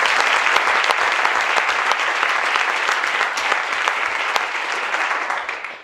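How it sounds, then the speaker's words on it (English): A graduation crowd gives an energetic round of applause, a dense, close clatter of many hands that holds steady and then fades at the end. "Can we give them another round of applause?"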